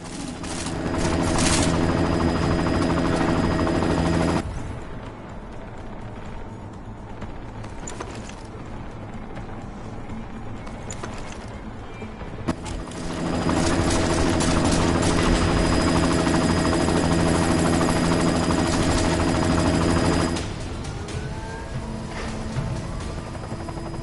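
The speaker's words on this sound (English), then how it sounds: "You've got to stop that chopper." Helicopter in a military shooter video game, a loud rotor and engine drone with bursts of gunfire, dropping back briefly before the heavy chopper roar returns.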